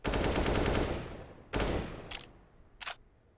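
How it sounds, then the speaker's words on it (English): Rapid automatic gunfire in Counter-Strike: Global Offensive during a competitive grand final match, a loud sustained burst followed by a second shorter volley and a couple of quick, fainter sharp pops. "11-10, your current scoreline, with Pulse looking to draw that level with the first frag, taking out Ardis inside of mid."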